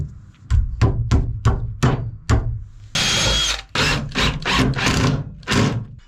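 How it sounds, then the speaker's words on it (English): A power drill drives screws into plywood garage shelves: a run of short, rhythmic whirring bursts, then a longer sustained drive and several more bursts, loud and close, with no voices. "Now we just need to screw in our plywood to our shelves."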